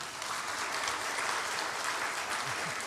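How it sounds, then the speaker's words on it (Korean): A church congregation applauding during a Sunday worship service, dense continuous clapping filling the room at a moderate distance, steady throughout with no talking over it. "박수 주세요."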